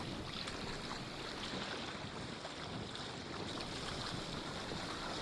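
A sailing kayak running fast downwind on open water in strong wind, a constant dense rush of wind buffeting and water spray, steady and loud with no voices.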